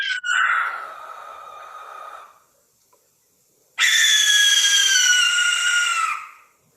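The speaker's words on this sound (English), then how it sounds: "The barn owl has a crazy horror film screech that you can hear as it's hunting over fields and marshes." A barn owl's long, harsh hissing screech rings out loudly, fades, and after a short silence a second drawn-out rasping shriek follows, both alone with no other sounds.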